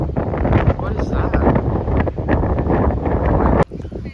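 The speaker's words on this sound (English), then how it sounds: "it is really windy" Strong wind buffets a microphone beside a river, producing loud, continuous rumbling gusts that cut out abruptly near the end.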